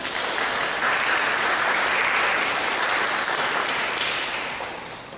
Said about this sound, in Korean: 우리 박수로 축하해드리겠습니다.